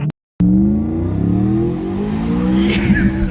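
Ford Shelby Mustang Cobra GT500 with about 600 horsepower accelerating hard, a loud close engine roar climbing steadily in pitch through the gears after a brief cut to silence, with a faint squeal near the end.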